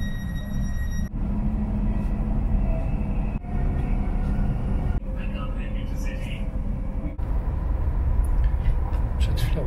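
Steady low rumble of a moving train from inside the carriage, with continuous rolling noise and occasional faint higher clatter and brief dips.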